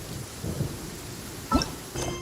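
Rain and thunder in the Genshin Impact video game: a faint, steady rainfall hiss broken by a few short, low thunder rumbles, with no talking.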